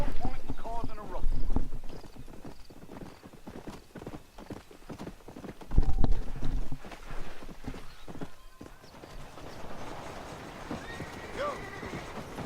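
Horse hooves clip-clop at a run with whinnies and neighs in the Red Dead Redemption western game, loud and close, while someone speaks over the galloping.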